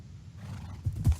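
A horse neighs in the Minecraft video game, two short low snorting whinnies near the end after a quiet stretch.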